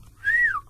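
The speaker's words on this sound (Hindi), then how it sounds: "आप लोगों को सीटी बजाना आती है" A person gives a single short whistle, one clear, loud tone that rises slightly, holds, then slides downward before stopping, with no other sound.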